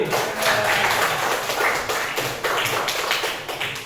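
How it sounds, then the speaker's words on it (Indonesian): A junior high school class claps steadily in a classroom in Lampung, Indonesia, many hands overlapping into a dense, fairly loud patter of applause that tapers slightly toward the end. "Tepuk tangan untuk kelas 7D."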